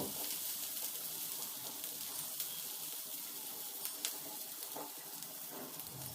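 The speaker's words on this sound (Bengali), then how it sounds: "তারপর এই সব কিছুকে আমি হালকা একটু সফট করে ভেজে নেব" Onion and garlic fry softly in a pan, giving a faint, steady sizzle with a few small crackles and stirring sounds throughout, and no voices.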